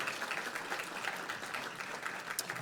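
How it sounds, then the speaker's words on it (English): Steady applause from an audience at the Muhammad Ali Humanitarian Awards ceremony, a brief, even wash of many hands clapping with no pauses. "Once again, a round of applause for Clementine."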